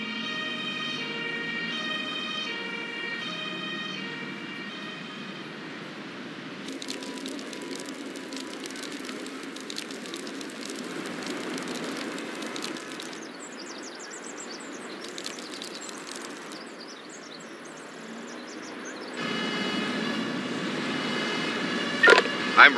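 An ambulance siren wails in the Emergency 5 video game, a sustained tonal whoop that shifts pitch over a droning engine-like background, cutting in and out across the stretch.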